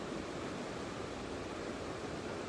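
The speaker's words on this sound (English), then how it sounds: "Water rushing by," Broad, steady rushing water fills the whole stretch, a constant even wash of flowing noise at moderate distance with no voices over it.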